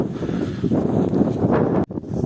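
Strong wind buffets the microphone in heavy, rumbling gusts, roaring continuously outdoors with a brief dip near the end.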